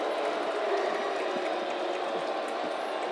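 Loud, steady roar of a Bison home crowd at a college football stadium on third and goal, North Dakota State facing Tennessee State late in the game, a dense continuous wash of cheering with no breaks.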